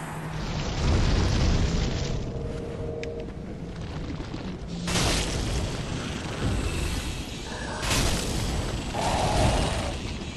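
A fire attack against enemies in Dark Souls 3, heard as dense, loud whooshing bursts and booming blasts that swell and fade over several seconds.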